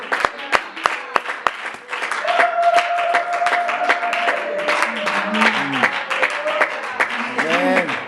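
At a church retreat, a handful of sharp, separate claps ring out, then swell into fuller crowd applause mixed with raised voices and singing-like tones.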